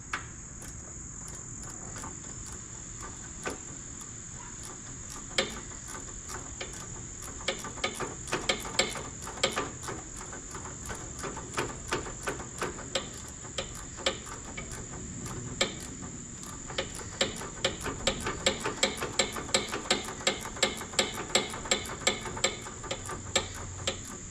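Swiveling ratchet wrench clicking during a repair on an expensive riding mower, a rapid run of close, sharp ticks that grows denser toward the end over a steady background hiss.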